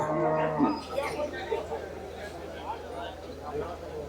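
Cattle moo loudly at a busy cattle market where cows are bought and sold, with one long low moo at the start over a crowded background of voices and murmur.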